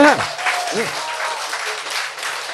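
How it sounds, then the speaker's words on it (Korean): Brief applause from an audience at a lecture, a soft patter of clapping that runs steadily under a speaking voice and some tonal sounds at the start. "박수!"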